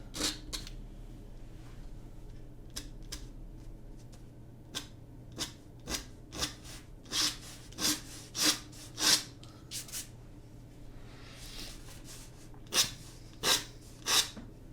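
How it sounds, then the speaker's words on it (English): A scraping tool scratches at the paint surface of a watercolor beach scene with sand and a bird, lifting out highlights. Short, dry, close scrapes come in an irregular series and grow quicker and stronger toward the end. "it's not a pleasant sound really, the scratching, but that's okay"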